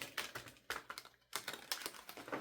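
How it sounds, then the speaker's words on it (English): Oversized tarot cards are shuffled in quick, irregular bursts of soft slaps and riffles, faint and close, with short pauses between bursts. "mind the terrible shuffle job that I'm going to be doing with these cards because they're like massive"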